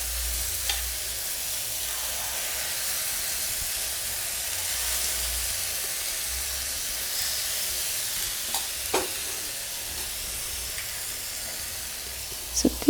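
Egg mixture fries in oil in a pan, a steady close sizzling hiss with a few faint clinks and stirring sounds near the end.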